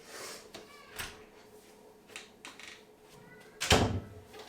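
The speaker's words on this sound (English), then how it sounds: "I'm just going to push this door together a second" A door is pushed closed indoors: soft rustles and small knocks, then one louder thud near the end.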